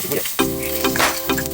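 Onion sizzling as it fries in a pan for adobong isda, a steady close hiss with a few stirring scrapes, no talk.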